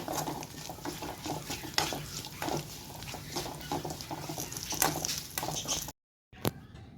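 Curry leaves and green masala frying in a pan for chicken green masala, a steady busy sizzle with frequent stirring scrapes and utensil clinks, close and continuous, cut by a brief silence near the end before one sharp clink.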